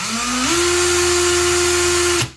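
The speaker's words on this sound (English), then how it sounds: "the drill rotates a lot faster" A Ryobi cordless power drill whirs steadily at high speed, its pitch stepping up once early on, then cutting off abruptly at the end.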